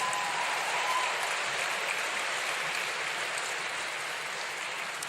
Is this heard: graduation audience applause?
yes